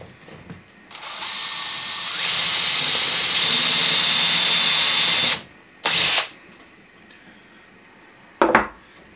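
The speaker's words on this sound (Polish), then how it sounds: "Wiertło." A power drill bores into a cabinet front, a steady high whine that rises and holds for a few seconds, stops, then gives two brief short bursts.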